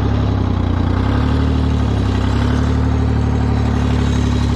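Heavy equipment engine at a depot running at a steady, loud idle, a continuous low rumble throughout with no distinct start-up or rev.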